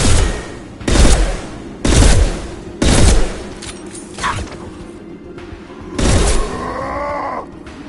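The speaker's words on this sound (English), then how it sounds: "Firing now!" Loud, close gunshots in Mass Effect 2 come as several heavy single blasts spaced about a second apart. Quieter combat noise and a short voice follow the shots.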